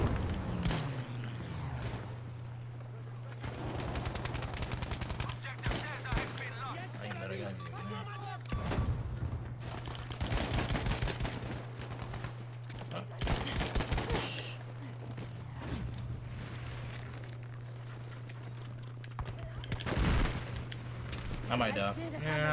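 Dense, continuous gunfire in Battlefield 5 conquest gameplay: rapid automatic bursts and heavier booms overlapping for the whole stretch under a steady electrical hum, with a player talking over the battle.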